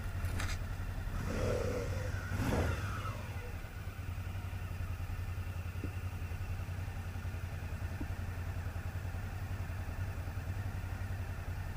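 Suzuki V-Strom motorcycle riding along, its engine producing a steady faint drone with a high whine, alongside wind rush and a couple of brief swells early on.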